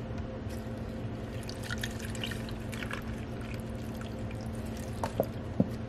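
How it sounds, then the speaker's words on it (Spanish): Water poured generously into a blender jar over spinach, a steady close trickle and splash running for several seconds, ending with a few louder drips. "Le vamos a poner mucha agua."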